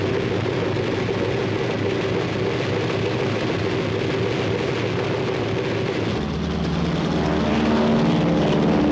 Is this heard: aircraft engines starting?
yes